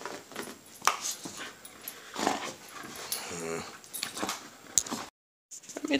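A tired puppy whimpers and yips softly after a game of tug of war, in short uneven bursts close by. A person talks quietly in between, and there is a brief moment of silence.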